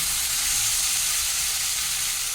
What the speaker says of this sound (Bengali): লবণ দিয়ে এটাকে মিনিট খানে একটু মেরে করে হালকা ভেজে নেব